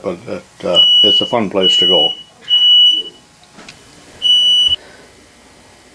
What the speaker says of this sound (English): That was a smoke alarm that went off.